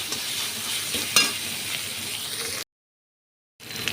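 Spice paste frying with dried fish (shutki) and taro stolons: a close, steady sizzle with scraping stirs and a sharp clank midway, then a second of silence before the frying resumes.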